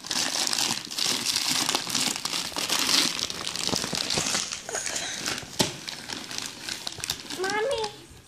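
Gift wrapping paper being torn and crumpled open by a child, a loud continuous crinkling and ripping that runs nearly throughout, with excited children's and adult voices talking over it.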